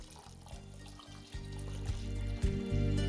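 Milk and water poured into a pot of egg yakhni pulao made with a kilo of rice, giving a steady, close splashing flow that swells and surges in a few stronger bursts.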